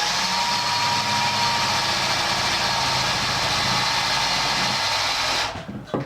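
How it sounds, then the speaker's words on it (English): Power drill boring a small pilot hole, a steady high whirring motor drone held close and loud for about five seconds before the drill stops abruptly, followed by brief handling noise; no speech. "we're just going to drill ourselves a little pilot hole here"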